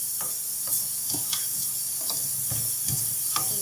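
Onions browning in a pan for a gawar phali and chicken dish, with a steady low sizzle and occasional soft stirring scrapes spread across the stretch, moderately close and alone without talk.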